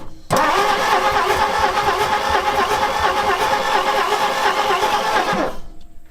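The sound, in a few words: old abandoned panel truck engine cranking after 40 years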